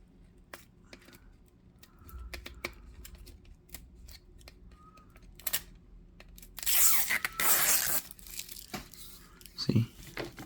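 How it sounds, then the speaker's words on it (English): Sticker backing peeled off under-cabinet LED motion sensor lights, a crackly tearing rustle building loudly midway after scattered small clicks and handling taps, with a final sharp crinkle. "Make sure you peel off the sticker."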